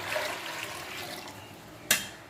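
Water splashes and pours into a pot, two potfuls measured in, ending with a short clank of metal.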